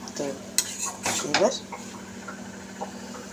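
Spoon mixing bottle gourd curry with green chillies in a pan, several scraping and clinking strokes against the metal over a soft sizzle, with a voice talking.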